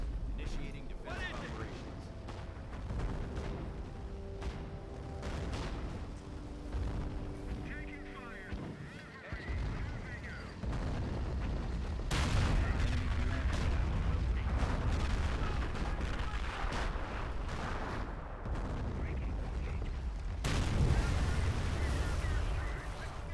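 Mortar fire and artillery booms ring out in a Company of Heroes battle set during the Normandy invasion, with repeated heavy blasts and rumbling gunfire over a steady battle din while someone talks throughout.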